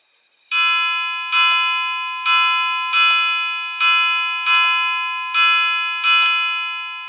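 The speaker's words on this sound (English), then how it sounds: "this should be eight bells." A Schatz maritime ship's clock strikes eight bells: a bright, ringing bell struck eight times in four close pairs, each chime decaying slowly before the next pair, loud and clear with no talking.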